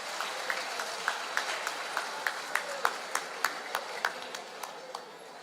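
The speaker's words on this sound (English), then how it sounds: "A big round of applause for him for taking the initiative at least." Audience clapping at a tech community day at a university, a steady patter of many hands with one or two sharper, regularly spaced claps standing out near the front.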